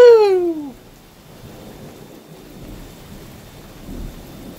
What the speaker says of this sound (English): It's a downpouring out there.